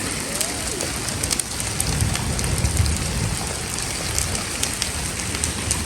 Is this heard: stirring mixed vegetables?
no